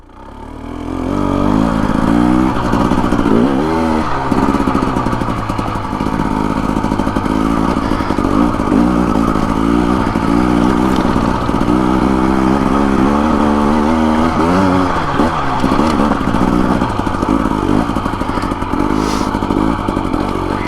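Small dirt bikes, a Husqvarna TE250 and a Kawasaki KLX, ride over rocks in Kelly Canyon, Arizona, with close continuous engine drone, rising revs and clattering over rough ground.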